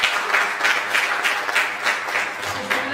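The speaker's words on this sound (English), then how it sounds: "A big round of applause." Steady audience applause, dense continuous clapping from many hands throughout, with no voices on top.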